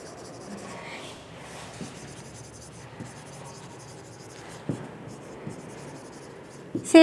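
A physics lecturer writes on a board during a class, with faint scratchy strokes and soft taps in a quiet room, then a sharper knock near the end.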